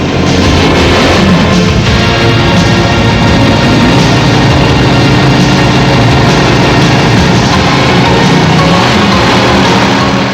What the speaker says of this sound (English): On the line, the battle of the dragsters, Whiplash with Michael van Rensburg